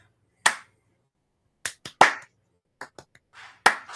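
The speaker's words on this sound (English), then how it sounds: "Slow clap." A handful of slow, separate hand claps, sharp and close, spaced unevenly with silent gaps between them.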